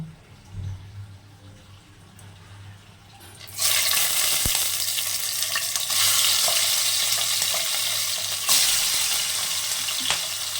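Small bhola fish fried in mustard oil in a kadai. A quiet stretch comes first, then a loud, dense sizzle bursts in as the fish hits the hot oil and keeps crackling steadily to the end.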